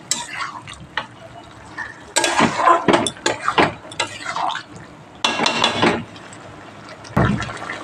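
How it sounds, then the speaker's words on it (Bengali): A little water goes into a cooking pot while a Bengali spice-free dish is cooked, with clinks of metal utensils, stirring and a short splash amid kitchen clatter. "একটু সামান্য জল দিয়ে দিলাম"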